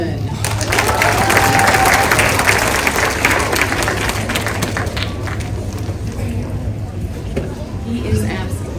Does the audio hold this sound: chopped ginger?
no